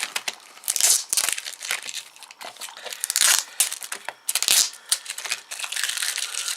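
Close-up crinkling and tearing of plastic packaging and tape in irregular bursts, with scratchy rips and rustling.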